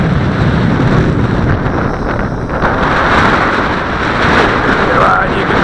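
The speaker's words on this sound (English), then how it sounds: "now the wind's getting a little gusty for it" Gusty wind buffets a JJRC H12C drone flying outdoors on a windy day, a loud continuous roaring rumble of wind noise against the microphone that swells and eases without a break.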